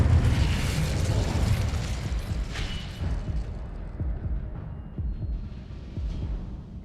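A fiery Incendio spell blast in Hogwarts Legacy, a loud whooshing burst at the start that rumbles and fades, followed by scattered thuds and low impacts.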